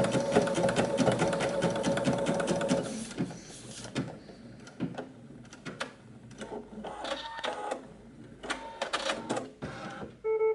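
An embroidery machine stitches, with rapid mechanical clatter at first, then it stops and gives scattered clicks, whirs and thumps as the thread is cut. Nearby and loud, with no talk.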